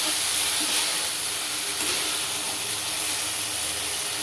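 Soybean chunks frying in a pan produce a loud, continuous hissing sizzle that stays steady throughout, with no pauses and no talking.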